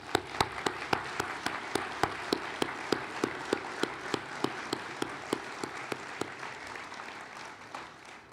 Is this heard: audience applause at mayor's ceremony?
yes